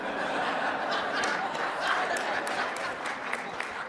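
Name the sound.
audience applause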